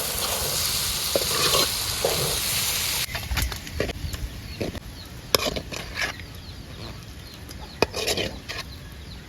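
Spiny gourd curry fries in a pan, loud bright sizzling that drops off partway through, followed by scattered clinks and scrapes of a spoon stirring, close by.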